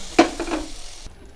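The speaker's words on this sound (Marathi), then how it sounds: "तुपामध्ये खसखस भाजून घेतली की आपण त्यामध्ये गूळ वितळून घेणार आहोत" Poppy seeds roast in ghee in a pan while a spoon scrapes and taps the metal three or four times over a light sizzle. The sound is close and cuts off abruptly after about a second.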